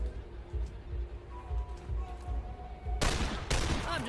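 Gunfire in the turn-based video game The Lamplighters League, with a couple of sharp bursts of shots near the end, loud and close, following a stretch of quieter game sounds.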